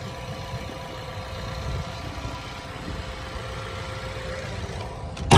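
A 2007 four-wheel-drive pickup with a 2.3-litre engine and manual gearbox idles smoothly and steadily up close, a low even rumble with a brief louder knock at the end, no talk.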